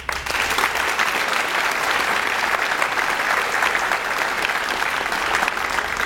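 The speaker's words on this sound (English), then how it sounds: "a round of applause" Steady, dense applause from a large audience of friends and family at a student recognition ceremony, continuous and even throughout without talk.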